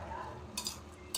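A spoon stirs bisi bele bath mixed with brown sugar and salt in a pot, making two quick, quiet scraping clinks.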